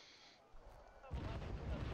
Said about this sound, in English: he's just fucking mortaring everything